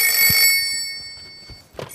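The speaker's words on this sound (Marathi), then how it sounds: "फोन बघ कोणाचा आला" A mobile phone rings indoors during a Marathi Malvani comedy scene: a short, bright electronic ring that fades away quickly.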